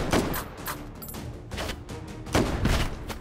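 Gunfire in the VR shooter Hot Dogs, Horseshoes & Hand Grenades comes as a rapid series of loud, sharp shots, some in quick clusters, echoing continuously across the whole stretch.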